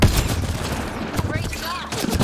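Rapid gunfire bursts from a firefight in the video game Mass Effect: Andromeda, dense and continuous under a busy mix of effects and voices.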